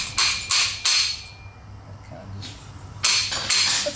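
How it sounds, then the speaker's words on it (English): A 48mm fork seal driver repeatedly taps fork bushings and a washer into a Sachs closed-chamber fork on a Beta RR, sharp metallic clanks in short bursts of two or three strikes, close and loud. "go grab 48mm fork seal driver, and I like to drive the bushings in with the washer first"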